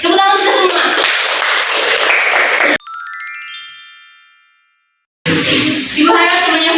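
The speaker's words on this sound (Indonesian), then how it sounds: "Tepuk tangan kita semua" A classroom group claps loudly and steadily, then a short rising chime rings out alone and fades before the clapping returns.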